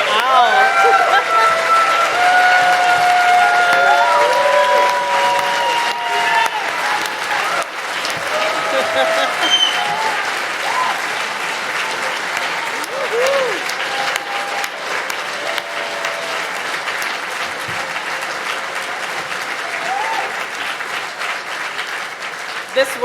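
Sustained applause from an audience at a live comedy and entertainment event in Los Angeles, a steady wash of clapping throughout with crowd noise and some voices mixed in.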